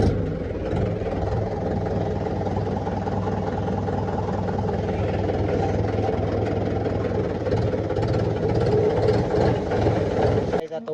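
A farm tractor's diesel engine idles and chugs steadily throughout, a close, even low rumble with no breaks and no voices.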